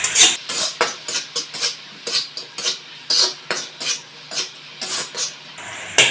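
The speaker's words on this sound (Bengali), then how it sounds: "টমেটো কেচাপ 2 চামচ দেওয়ার পর আবার একটু নাড়িয়ে নেব।" A spoon stirs dry chilli chicken sauce with tomato ketchup in a pan, giving a steady run of close, rhythmic scraping and clinking strokes, about two per second, with no talking.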